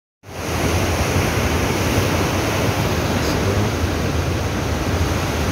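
The Cumbaza river, swollen after heavy rain and threatening to overflow, roars with a loud, steady rush of water that starts abruptly and continues unbroken, with no voices.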